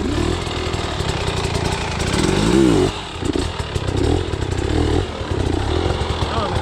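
A hard enduro dirt bike on IRC tires runs at close range during off-road riding practice, its engine buzzing and revving continuously with clattering and scraping, while someone talks over it.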